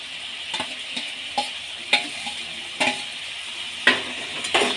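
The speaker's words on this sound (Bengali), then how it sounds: "এবার আমি সব ভেজে রাখা কাঁকরোল আর আলুগুলো দিয়ে দেবো।" Fried spiny gourd and potatoes sizzle steadily in a hot pan as a spatula stirs them, scraping and knocking against the pan in several sharp, close strokes; no voices.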